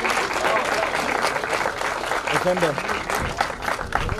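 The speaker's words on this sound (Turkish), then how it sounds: "bir kez daha genç minik yarışmacılarımıza kuvvetli alkışlarınızı istirham ediyoruz" Audience applause for young competitors at a Turkish mounted archery championship, steady dense clapping throughout with a voice speaking briefly over it.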